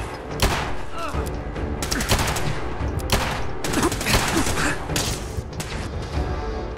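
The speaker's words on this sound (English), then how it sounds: "Explosions and stuff going on everywhere." Rapid bursts of gunfire and booming explosions crackle in dense, overlapping volleys, loud and chaotic throughout, in modded Fallout 4.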